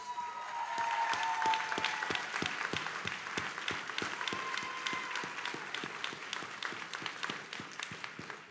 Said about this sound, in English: Can you stand up and let's just give her a round of applause?